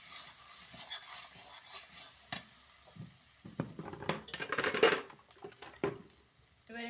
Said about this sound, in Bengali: এবার এটাকে সুন্দর করে নেড়ে চেড়ে নিতে হবে